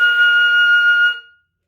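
A single sustained flute note, F, held steadily for about a second, then quickly fading out into silence.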